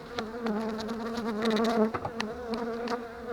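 Dense, steady buzzing of many Buckfast honey bees close by at an open hive in spring, a continuous droning hum with occasional louder passes.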